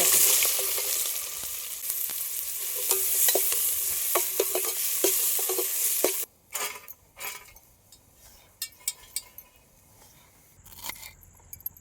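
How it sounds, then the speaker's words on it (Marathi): Onion going into a pot over a wood-fired clay chulha, a busy loud sizzle with stirring scrapes for several seconds that then drops to quieter crackles and faint clicks. "आता कांदा टाकायचा याच्यात हा कांदा"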